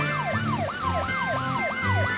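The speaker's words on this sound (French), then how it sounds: "C'est la voiture de police!" Cartoon police car siren wailing in repeated rising-and-falling sweeps, steady and moderately loud over a low rumbling engine, with no talking.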